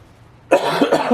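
A person with a lingering cold coughs once, a sudden loud rough cough close up after a moment of near silence.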